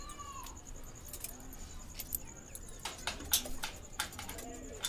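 Madrasi pigeons, a male and a female of the same breed kept at a bird seller's in Delhi, give soft low coos amid chirping birds and scattered sharp calls, over a steady background hum.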